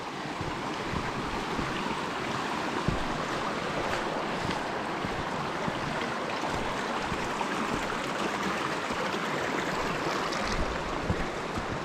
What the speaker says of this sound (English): Up to a creek crossing.